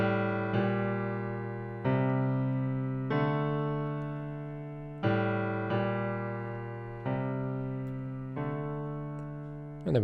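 Left-hand piano part of a song played alone: sustained low chords struck about every one and a half seconds, each ringing and slowly decaying before the next, steady and unhurried with no talk.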